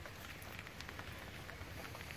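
Light rain sprinkles steadily outdoors, a faint, even hiss broken by scattered soft pattering drops, with no voices.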